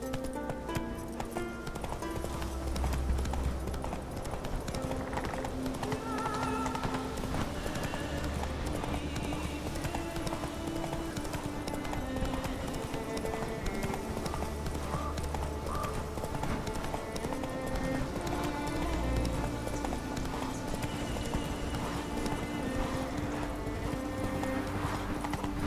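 Horse galloping in The Witcher 3 video game, rapid rhythmic hoofbeats running steadily throughout with occasional snorts and whinnies, set against in-game ambience and background music, with a voice briefly urging it on.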